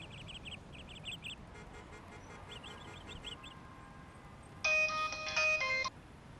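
A phone ringtone plays a repeating electronic melody, quiet and broken into short phrases at first, then bursting out in two loud, bright tonal blasts near the end.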